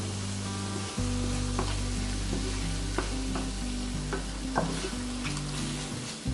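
Shrimp sizzle in a pan as tomato sauce goes in, a steady close frying hiss with occasional crackles, overlaid by a loud humming tonal background throughout.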